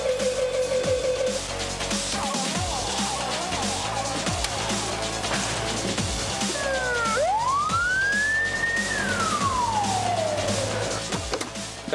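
A fire tanker truck heading out on a call sounds its siren, one loud wail rising and then sliding back down over a steady background roar, with no talking.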